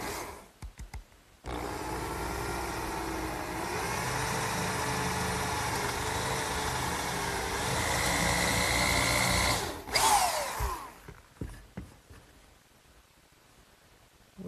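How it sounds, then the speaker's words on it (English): A power drill bores a hole with a 3/8 brad point bit for an oak dowel in a woodworking project, a steady continuous whir with slight pitch dips lasting about eight seconds before stopping, followed by quieter handling sounds. "now it's time to drill a hole for the oak dowel"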